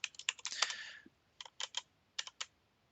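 Quiet keystrokes on a computer keyboard: a quick burst of typing, then a few isolated clicks spaced apart, close and clear.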